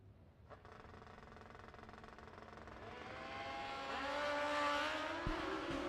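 At a drag strip, a street bike and a car launch down the track in a steady, building engine roar that climbs in pitch as they accelerate, loud and sustained.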